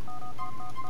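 Short electronic beeps from a mobile phone menu in Grand Theft Auto IV, a quick run of clear tones repeating over a faint background hum, with no speech.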